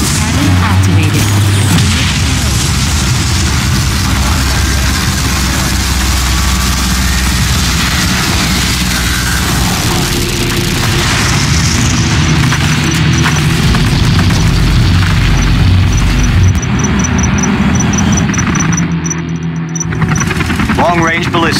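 Artillery cannon blasts boom in Command and Conquer Generals Evolution, a real-time strategy game, as loud, dense rumbling explosions laid over battle noise, while a voice delivers game announcements throughout.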